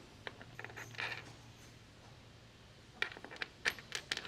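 Pieces of a 4mm stainless steel rack for a roller-shutter tub slid into place, faint metallic clinks and scrapes, a few sparse taps early then a cluster of sharper clinks near the end.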